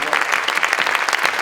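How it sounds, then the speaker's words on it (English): Dense audience applause at an alumni awards ceremony, many hands clapping steadily and loudly throughout with no pauses. "a round of applause, please"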